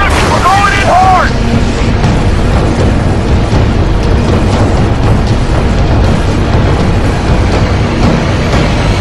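A Covenant carrier's slipspace jump blast in Halo 3: ODST makes a huge, sustained roaring rumble that fills the scene and runs steadily throughout, with voices faint beneath it.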